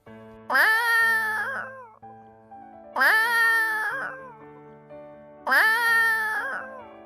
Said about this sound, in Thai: เสียงแมวนั่นเอง